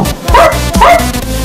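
A person imitates a dog barking with two short, loud yaps spoken close to the microphone.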